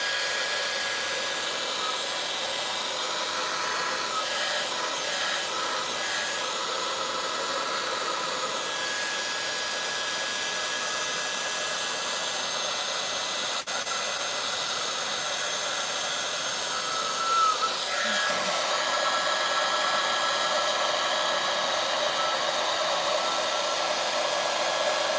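Heat tool blowing hot air over a craft project, a steady loud whooshing fan hiss running unbroken throughout, with a slight shift in tone near the end.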